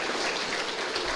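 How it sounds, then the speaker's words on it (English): Applause from mourners gathered at a funeral service, a steady dense patter of many hands clapping throughout, fairly loud and continuous with no talk over it. "I think it's worth a generous round of applause"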